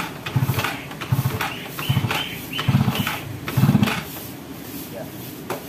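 A stalled Honda XR motorcycle being kick-started again and again: about five rhythmic bursts of cranking roughly a second apart, each one short and close, with the engine never catching before it falls quiet.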